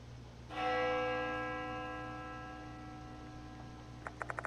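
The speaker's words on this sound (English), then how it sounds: "The sound of the bell echoes in my ears." A single bell in the Death Mark II video game rings out once with a clear, sustained tone that slowly fades, followed near the end by a few quick ticking taps.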